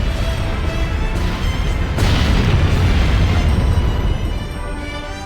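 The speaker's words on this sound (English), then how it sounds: "It stopped! The explosions are over!" Loud, rumbling explosions in Disgaea 4 Complete+ roll on continuously, with a sharp blast about two seconds in and deep booming that fades slightly at the end.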